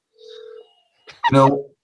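Desk telephone ringing in a home setting: a steady electronic tone, then a brief burst and a louder warbling ring near the end, fairly close and alone without talk.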